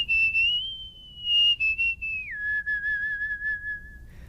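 A musical whistler whistles a clear sustained melody up close, holding long smooth notes that step down in pitch, then breaking into short quick notes, with no talking.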